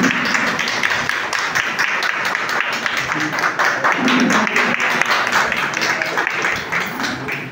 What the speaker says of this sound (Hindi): काय पिला ने जोरे ताली मारनो ताली